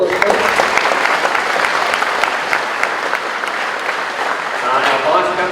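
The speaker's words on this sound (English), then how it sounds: "give them a round of applause." An audience at a Year 12 high school graduation ceremony applauds the vice captains, loud, dense, sustained clapping from many hands that fills the room throughout.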